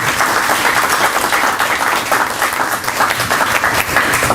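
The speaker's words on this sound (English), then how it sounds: "could I have a nice round of applause for our panelists?" A lunch-and-learn audience claps for the panelists of a transportation discussion, a steady, full round of applause from a roomful of people, close and even throughout.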